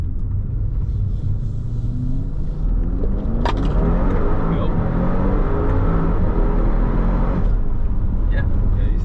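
A fast truck's engine revs and accelerates hard with a loud, continuous rumble and rising drone, heard from inside the cab while someone briefly speaks.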